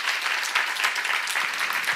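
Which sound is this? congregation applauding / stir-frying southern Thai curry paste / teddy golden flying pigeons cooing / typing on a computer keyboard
congregation applauding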